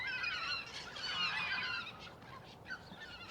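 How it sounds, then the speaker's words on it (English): A flock of about 100 to 150 geese honk repeatedly in a noisy overlapping chorus, sounding from a moderate distance as they run away, then thin out into a few scattered calls. "The geese are running away."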